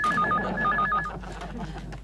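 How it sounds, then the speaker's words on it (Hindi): A telephone in an office cabin rings with a bright electronic warble in quick repeated bursts, fairly close, under overlapping talk and room noise. "अरे इस फोन को उठाता हूँ तो ये बजने लगता है"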